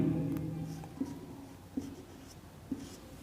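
A pen writes coordinates on a graph during a maths lesson, sounding as faint, close scratching with a few distinct tapping strokes at an irregular pace over a quiet room hum.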